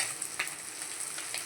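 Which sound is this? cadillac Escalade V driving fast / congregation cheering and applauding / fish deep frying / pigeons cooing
fish deep frying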